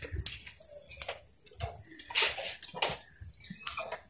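Water splashes and trickles into a pan for making sugar syrup for besan barfi, in uneven bursts of pouring and clinking over a few seconds, close by.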